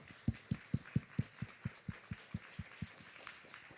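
An audience at a film festival Q&A session claps to welcome guests onto a panel, a steady run of distinct claps that gradually thins and fades, with no talking.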